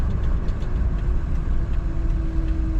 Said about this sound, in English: Oh yeah, that intake's definitely making some noise.